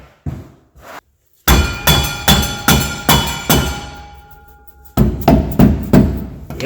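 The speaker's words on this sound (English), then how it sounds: "Get my hammer." A hammer strikes metal while shocks are fitted to a supercharged Plymouth Volare, about a dozen sharp ringing blows in quick bursts with short pauses between, loud and close.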